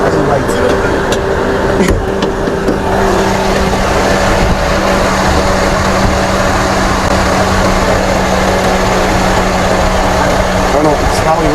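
A 2015 Mercedes-Benz GLK's engine cooling fan runs on high with the hood open, making a loud, steady whooshing roar with a low hum underneath that continues throughout.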